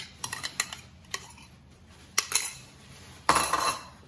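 A spoon mixing yogurt marinade in a bowl, with scattered clinks and taps of metal on the dish and a brief rattling scrape near the end, otherwise quiet.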